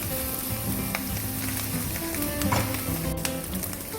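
Fried rice with scrambled egg and pineapple, made with Southeast Asian rice, sizzles loudly in a hot pan while it is stirred, with brief scraping stir sounds over a steady frying hiss. No one talks.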